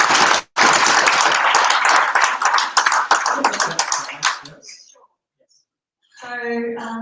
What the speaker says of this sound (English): Give her an applause for Microsoft.